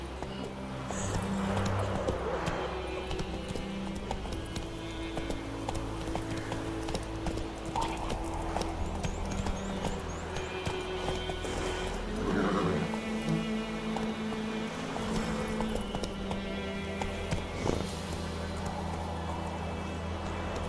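Hooves of the horse Roach in The Witcher 3 clip-clop in a steady galloping rhythm throughout, with game music and ambience running underneath.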